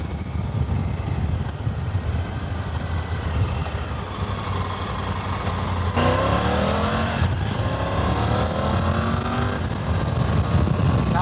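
A Triumph Tiger 900 adventure motorcycle engine heard while riding, a steady low drone that rises in pitch through a gear change, with wind rush and a louder climbing rev toward the end.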